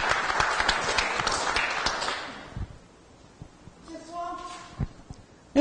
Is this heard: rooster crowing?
no